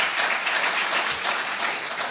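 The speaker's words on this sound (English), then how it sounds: "And hold the applause to the bitter end." Audience applause at a book talk, a steady wash of many hands clapping, moderately loud and continuous across the short stretch.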